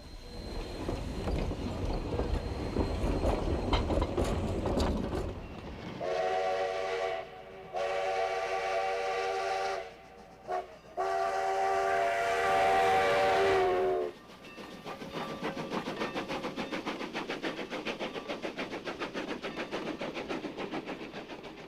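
An 1891 Rogers steam locomotive, one of the oldest still running, chuffs loudly up close, then sounds its steam whistle in several long blasts with brief gaps before the chugging resumes.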